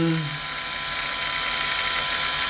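Hasston cordless impact drill spinning freely clockwise, a steady high whine with a rattling ratchet-like mechanical buzz, close and continuous after a brief voice at the start.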